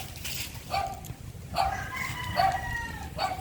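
Straight-comb Bulik chickens in a yard, with a rooster crowing several times in succession at moderate distance, each crow a rising, drawn-out call over low background noise.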